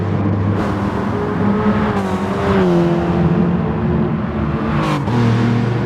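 Racing cars on a circuit, including a Peugeot and a Subaru Legacy in a front-wheel-drive class, drone steadily with rising and falling engine revs as they run close by, a continuous loud mechanical roar with no talk.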